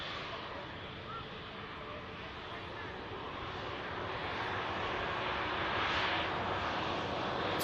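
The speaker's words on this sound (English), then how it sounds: "Air France, just coming in from Paris Charles de Gaulle," An Air France Embraer E190 jet landing at Manchester Airport, its engine roar broad and steady, gradually growing louder as it nears, with wind noise and a voice speaking over it.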